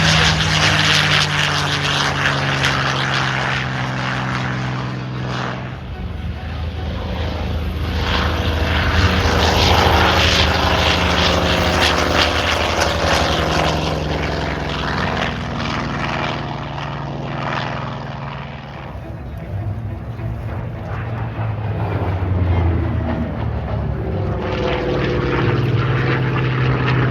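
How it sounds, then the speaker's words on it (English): Propeller aircraft flying at the Oregon International Airshow in McMinnville, a loud continuous droning engine roar that swells and recedes as the plane passes, with shifting pitch throughout. "It is twice flown by Daryl Pleasance."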